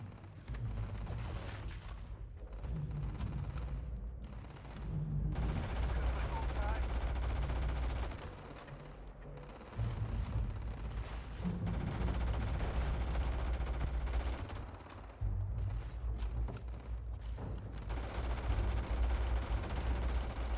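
Weapon fire in the video game Starfield, long rapid bursts of close, loud gunshots broken by short pauses, with a mechanical clatter around them and game sounds underneath.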